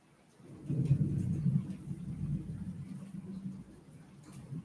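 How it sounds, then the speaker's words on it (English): Low rolling thunder during a rainstorm in Osaka, a fairly faint rumble that swells after a quiet start, peaks early, then slowly fades over steady rain. "Yeah, there's thunder too."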